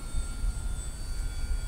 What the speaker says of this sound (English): The Bigfoot Arrows is a wonderful plane